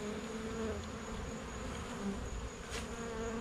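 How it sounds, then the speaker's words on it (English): Honeybees around a cable box outdoors: a steady, faint, continuous buzzing hum of several insects, with no voices. "I got all these bees smoked off of here, except for a couple of stragglers."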